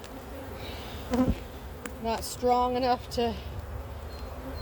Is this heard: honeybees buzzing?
yes